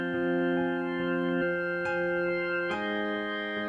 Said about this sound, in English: So here I'm going to use an organ,